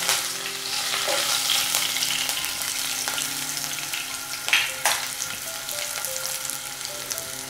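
Chopped green chili sizzles with cumin in hot oil in a pan for jeera rice, a dense, steady frying hiss with a few louder crackles midway, close-up and without speech.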